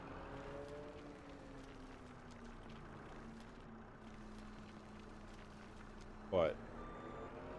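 A small skid steer in Farming Simulator 25 runs with a low droning engine and intermittent reversing beeps, while a voice talks over it and a brief louder clunk cuts in near the end.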